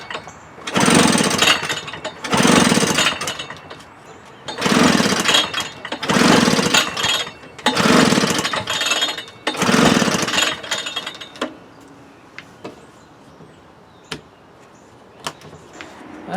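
A Husqvarna 155BT/145BT backpack leaf blower's small two-stroke engine, choked, catches in six loud bursts of a second or so each, dying out between tries, then falls quiet apart from faint clicks.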